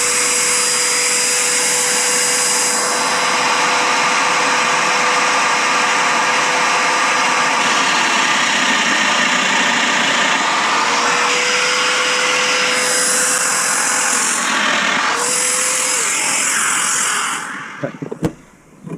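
A Festool Domino joiner cutting mortises for a table build, a loud, continuous whirring drone with a high whine that shifts in pitch as each plunge cut is made, then cuts off near the end.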